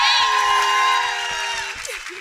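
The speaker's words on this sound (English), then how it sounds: "Let's give a round of applause." A loud, drawn-out whoop of cheering rises over the crowd at a women's empowerment conference, with faint applause and crowd noise beneath it.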